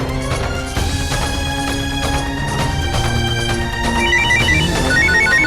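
A melodic ringtone plays loudly and continuously, its repeating electronic tune layered with music-like tones.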